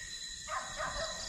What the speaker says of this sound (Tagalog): So, marinig niyo may aso dun.